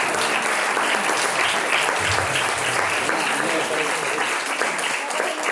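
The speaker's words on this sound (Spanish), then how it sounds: "¿Cuánto le dan un aplauso a ese Señor Jesús?" A church congregation applauds during a Spanish-language sermon, a dense, steady wash of many hands clapping at close range that fills the whole stretch without pause.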